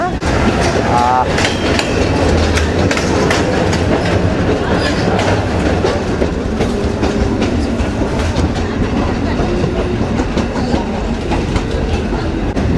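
A moving passenger train rattles and clatters steadily on its rails, a dense continuous rumble with rhythmic clicks that fills the whole stretch, with voices faintly mixed in.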